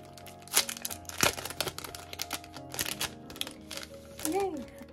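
A package of BTS Map of the Soul ON:E DVDs and photocards being opened by hand, with sharp crinkling plastic, tapping and tearing bursts up close, ending in a brief squeak-like sound.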